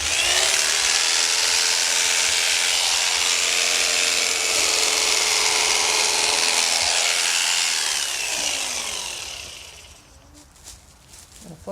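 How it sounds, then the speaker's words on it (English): Electric clippers shearing an alpaca fleece, a steady close buzzing drone with rasping friction as the blades cut through, then the motor winds down and stops near the end, followed by quieter handling noises. "I'll stop the clippers here."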